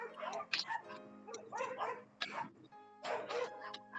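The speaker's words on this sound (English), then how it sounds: "Someone's dog's fighting." Dogs fighting, giving close, bursty barks, yips and whimpering growls in quick clusters with short gaps between them.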